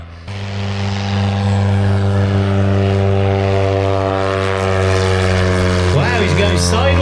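Propeller aircraft droning steadily through a flat turn with the rudder pushed hard, a loud buzzing engine tone that holds level and slightly shifts near the end, with voices talking underneath.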